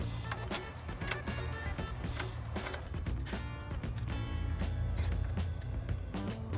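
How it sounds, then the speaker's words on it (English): A torque wrench tightens Loctite-treated subframe bolts to 25 newton meters on an Eride Pro 3.0/SR electric bike, giving steady, close mechanical ratcheting and clicking over a continuous low hum, with no talking. "Now we're gonna take the torque wrench and tighten these down to 25 Newton meters."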